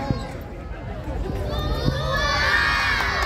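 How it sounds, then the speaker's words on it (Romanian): A crowd at a gladiator show at the Zilele Clujului festival in Cluj shouts a fighter's name, many voices including children rising into a loud, swelling cheer while a man calls out over them. "Ține cu Uval, strigați numele!"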